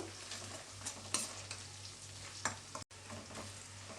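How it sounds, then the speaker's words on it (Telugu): Onions fry in oil in a pan with a faint, steady sizzle. Occasional clinks of a stirring spoon cut through, and the whole scene is quiet and close. "ఎర్రగడ్డలు కొద్దిగా బ్రౌన్గా వచ్చే వరకు ఫ్రై చేసుకోవాలి"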